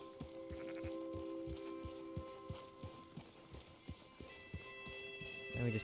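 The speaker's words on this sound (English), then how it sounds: "Let me just park my horse." Horse hooves clip-clopping at a slow walk in the Red Dead Redemption 2 video game, a steady run of evenly spaced thuds over a low sustained hum, with the steps loosening and slowing near the end.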